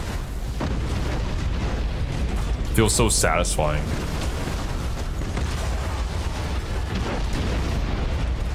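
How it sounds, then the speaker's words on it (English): Artillery explosions from the space-combat video game Battlefleet Gothic: Armada 2 form a dense, continuous rumbling barrage of booms, with a brief spoken remark over it partway through. "the weapon and explosion sounds could stand on their own. That is some crisp artillery"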